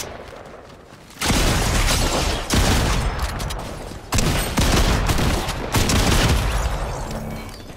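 Heavy automatic weapon fire in Fortnite's Lucky Block Arena: loud, close, sustained volleys roar in long stretches, broken by brief pauses between bursts, with no talk.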